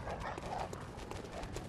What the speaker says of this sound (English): Oh, it's the hunter and his dogs.